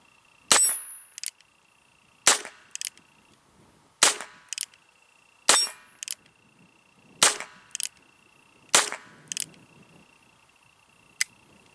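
A Heritage .22 revolver fires at a small plate, with about seven sharp, close shots spaced a second or two apart, most followed by a faint metallic ping from the hit.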